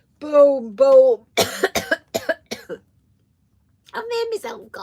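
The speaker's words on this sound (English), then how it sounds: "I made myself cough." A man deliberately forces out a few short, sharp coughs and throat-clearing bursts at close range, set between bits of his own speech.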